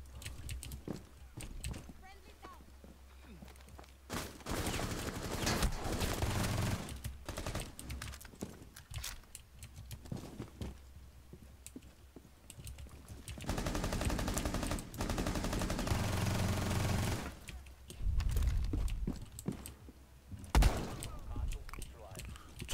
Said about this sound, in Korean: 총소리도 좋네요